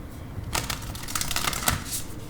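Tarot card drawn from a deck during a reading, a run of quick papery flicks and shuffling rustles close by, sounding alone without talk.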